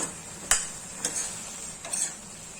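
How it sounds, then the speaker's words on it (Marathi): Brinjal, drumstick and potato vegetable sautéed with salt in a kadai: a spatula scrapes and taps the pan three times against a low background sizzle, close up, with no talking. "चवीपुरतं मीठ, चांगलं परतून घेऊया।"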